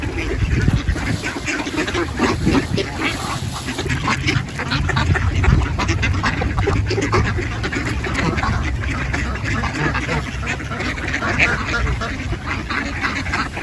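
A flock of farm geese and ducks honks and quacks continuously nearby, a busy overlapping chorus of calls with people talking over it.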